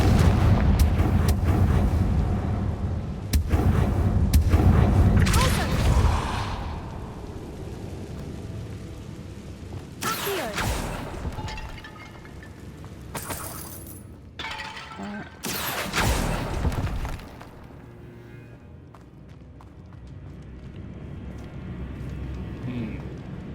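Blasting-spell explosions in a magic video game, heavy booming bursts that come in several separate strikes, some crackling and shattering, with a voice speaking between them.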